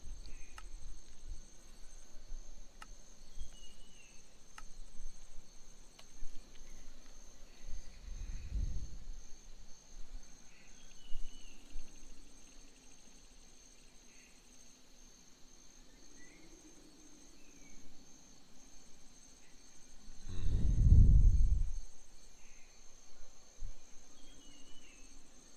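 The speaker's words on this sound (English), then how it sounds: "There's a peeper." Steady high-pitched chirping, like a spring peeper frog, runs through a night scene in the Minecraft video game, a faint continuous trill with a few soft low thumps in the background.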